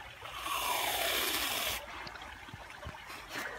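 A waterfall rushes as a broad hiss of falling water for about two seconds, then drops to a softer trickle and faint splashes, with no voices.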